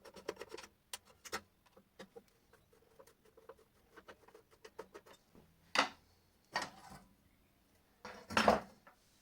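A B91-grit CBN wheel being fitted onto a bench grinder arbor gives a run of sharp metallic clicks and clinks, some quick and clustered, then a few louder knocks and scrapes near the end, with no talking.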